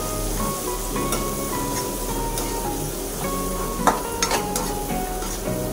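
A spatula stirs turmeric through food frying in a pan, with continuous close sizzling under scraping strokes and a few sharper clinks of utensil against the pan near the end.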